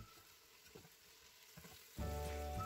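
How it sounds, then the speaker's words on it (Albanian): Onions and garlic hit a hot pot for a traditional lamb kukurec dish, bursting into a loud, steady sizzle partway through after a quieter stretch of light clatter and stirring. "Kjo tenxherja i skuq shumë shpejt."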